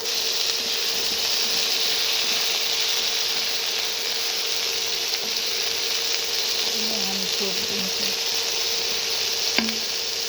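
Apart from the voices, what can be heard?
potato and onion frying in pan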